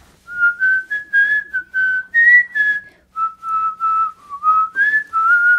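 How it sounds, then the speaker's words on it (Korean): A melodic tune whistled clearly and up close, phrase after phrase with brief pauses, the pitch gliding between notes. "이번에는 또 휘파람으로."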